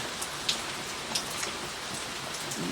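Steady rain falls outside, a dense close patter of drops on surfaces with occasional sharper splashes, no voices.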